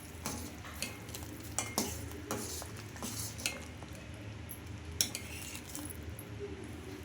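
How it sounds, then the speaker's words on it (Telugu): A spoon stirring sambar with sambar powder in a pot, scraping and clinking against the metal in irregular strokes under a low sizzle, close and fairly quiet, no voices. "ఈ సాంబార్ పొడి వేసేసుకొని బాగా కలిపేసుకుందాం"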